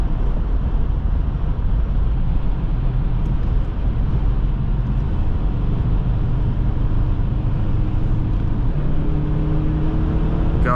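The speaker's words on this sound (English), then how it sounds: "Got a responsive kick down, and the car moves forward" A 2005 Subaru Outback 2.5 XT accelerates under kick-down, heard from the cabin as a steady, loud engine and road drone that rises in pitch toward the end.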